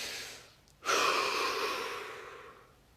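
Someone takes a slow, deep breath through the mouth during a relaxation session. A faint inhale is followed by a long, airy exhale that fades gradually, close and alone.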